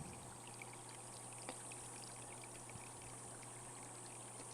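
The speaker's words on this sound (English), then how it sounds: "it was pretty much just, what would I say, more of a mountain brook" A mountain brook near a spring flows with a soft, steady trickle and gentle splashing, faint and continuous with no voices.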